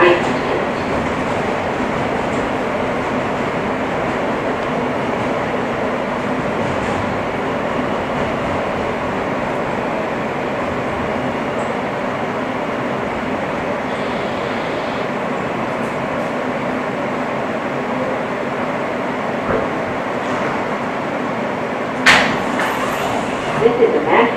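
An R160 F subway train rides along the West End and 4th Avenue line in Brooklyn, a continuous rumbling roar with a few clicks and squeals and a brief clatter near the end, under on-board announcements.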